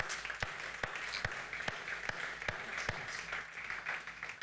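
A church congregation claps in praise, with sharp, evenly spaced claps about twice a second over a soft background wash, fairly quiet and distant.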